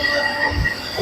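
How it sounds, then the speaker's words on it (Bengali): The Santragachi–Shalimar EMU local train rumbles along the tracks, loud and close, with steady wheel noise and a faint squeal over a low rolling roar. "Three 8034 Santragachi Shalimar EMU local."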